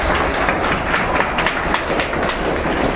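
Students clapping together in a classroom, a dense, continuous burst of applause with scattered sharp hand claps, steady and loud for the whole stretch.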